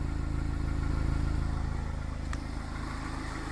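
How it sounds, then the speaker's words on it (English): Mazda MX5 ND idling with a new exhaust manifold, standard mid pipe and standard back box; a steady, even, pulsing low idle close by, alone and without talk. "The idle, really not a lot of difference."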